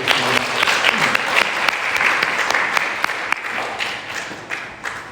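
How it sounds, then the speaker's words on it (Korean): A congregation at a Sunday service at Jeju Light Church claps together in loud, sustained applause, a thick wash of many hands with a few sharper individual claps standing out. "우리 수고한 모든 사람들에게 서로 격려의 박수 한번 부탁드리겠습니다."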